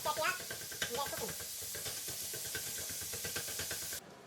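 Ground turkey sizzles steadily in a pan with a busy crackling hiss and a few clinks from stirring. The sound is moderately loud and stops abruptly near the end.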